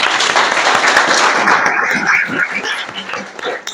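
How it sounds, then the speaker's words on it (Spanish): An audience at a religious teaching conference breaks into dense, loud applause that thins out toward the end. "Un aplauso."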